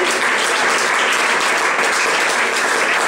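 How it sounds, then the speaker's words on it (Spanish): A church congregation claps together during a worship service, a dense, steady wash of applause that stays loud and close for the whole stretch with no talk breaking through. "Den un aplauso al Rey de Gloria."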